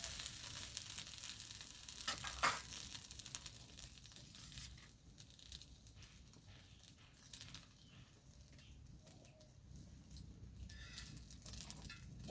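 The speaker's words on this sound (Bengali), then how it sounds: "এইভাবে দুই পিঠে উল্টে পাল্টে ভালো করে ভেজে নেব।" Pieces of rohu fish frying in a pan over low heat give a faint, continuous sizzle with soft crackling and spitting throughout, steady and unbroken.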